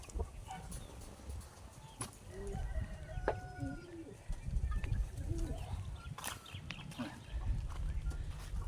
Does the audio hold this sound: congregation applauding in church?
no